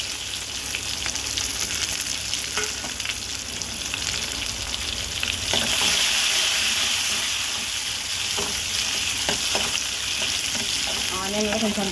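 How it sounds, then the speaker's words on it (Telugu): One onion fries in oil in a pan until golden brown, a dense continuous sizzle with a few scrapes of stirring, loud and close with no talk. "ఆనియన్లో కొంచెం బ్రౌన్ కలర్ వచ్చేంత వరకు ఫ్రై చేస్తాం, గోల్డెన్ బ్రౌన్ కలర్"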